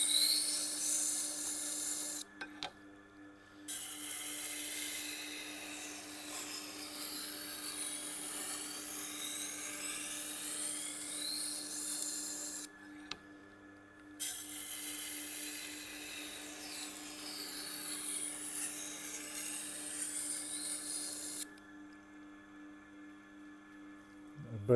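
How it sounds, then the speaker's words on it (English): A newly ground knife blade is drawn over a sharpener on its fine setting to set the bevel, giving a continuous faint scraping rasp in long strokes broken by two short pauses, with a steady low hum beneath. "I just want to establish the bevel. And I'm on the fine setting as well."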